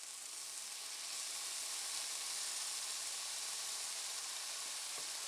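Food sizzling steadily in a hot pan, a bright continuous crackling hiss with no talking.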